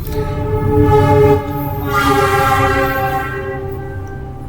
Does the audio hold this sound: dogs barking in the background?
no